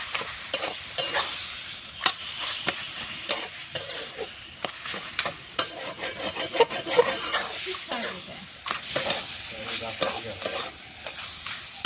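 Boiled pumpkin leaves being stirred and mashed with fried fish head and garlic, a continuous close sizzle broken by many rough, rhythmic scraping strokes of a spatula against the pan, with no voices.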